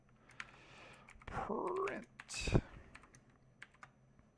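Keys click on a computer keyboard in short, light bursts of typing, close and fairly quiet. A voice speaks briefly in the middle.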